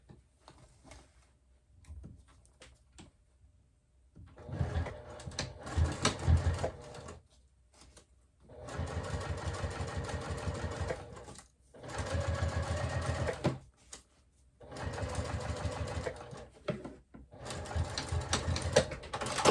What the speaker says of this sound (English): we'll just go ahead and sew across the entire bottom here